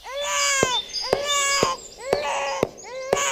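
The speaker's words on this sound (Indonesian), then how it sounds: "Tangis bayi kemudian terdengar nyaring." A newborn girl cries loudly and close by, in four repeated wailing bursts with rising and falling pitch, each broken by a sharp catch of breath.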